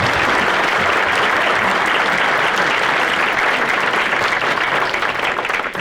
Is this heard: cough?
no